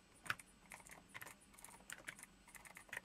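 Quiet, close clicks of a computer keyboard as a terminal command is typed, with a quick irregular run of keystrokes and no talking.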